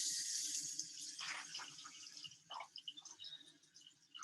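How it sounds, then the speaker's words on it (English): Water runs from a kitchen tap as something is rinsed off, a soft hiss with faint splashing and trickling that eases off toward the end. "Hold on one second while I rinse that off."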